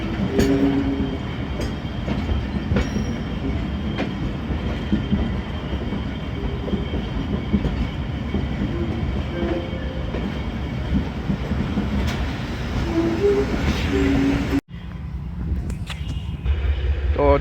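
The 28 Down Shalimar Express thunders past Darul Ehsan railway station in Pakistan, a loud continuous rumble of wheels with rhythmic clickety-clack and occasional squeals, heard from a train waiting on the loop line, cutting off abruptly near the end.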